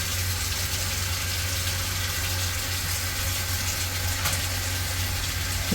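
Boiled liquid pours steadily into a clay pot holding tuna pieces, a continuous close gushing flow with no talking.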